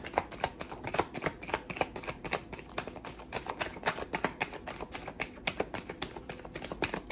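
Tarot cards being shuffled and drawn, a steady run of close, crisp riffling flicks and soft taps repeating throughout without any voices.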